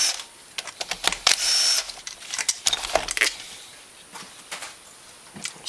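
Bolts are being removed from the shift cover of a Kawasaki Brute Force ATV engine, close metallic clicks and ratchet-like taps with a short buzzing tool burst, then softer scattered handling noises.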